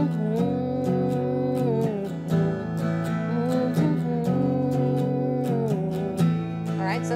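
Electric guitar strumming a down-down-up-up pattern on a muted power chord from the intro of a song, with sustained ringing tones cut by sharp, regular strokes, loud and close, without talking.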